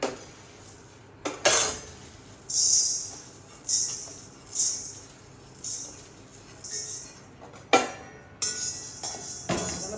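A spatula scrapes and clinks against a pan in repeated strokes, the gentle scraping of chana dal being stirred and dry-roasted.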